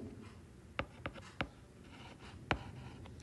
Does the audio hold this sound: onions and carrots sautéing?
no